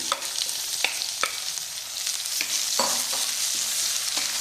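Finely chopped onions fry in a pan for a Kerala-style egg roast, a steady broad sizzle carrying through with sharp spatula scrapes and clicks landing every half second or so, close and clear with no voices.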